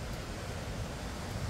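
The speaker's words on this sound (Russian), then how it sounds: "И такой ветер поднялся. Ужасающий прям ветер." Strong wind roars in a steady, dense rush of broadband noise, buffeting the microphone without a break.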